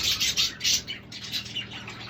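Pet budgies chirp in a rapid series of bright, high twittering calls, close and fairly loud at first, then softer and more scattered chatter with no voices.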